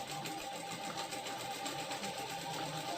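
A sewing machine runs a continuous line of stitching on a katori blouse, a steady, even whir for a few seconds with no pauses.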